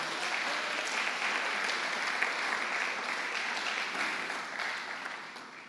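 A church congregation claps together in a sustained, even round of applause, dense and moderately distant, fading slightly toward the end with no speech over it.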